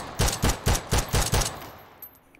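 Five evenly spaced rifle shots from a 14.5 inch barrel fitted with a flash hider, in a video game, ring out loud and sharp, each trailing a short decay, followed by a fading tail and one faint later click.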